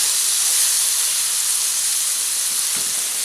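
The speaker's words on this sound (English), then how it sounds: "I am going to add about a half cup of Marsala wine" Marsala wine hits a hot pan of browned mushrooms, giving a loud, steady hiss and sizzle that fills the moment, with one small clatter near the end.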